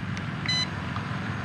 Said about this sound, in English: take the long press to stop the recording. Two beeps.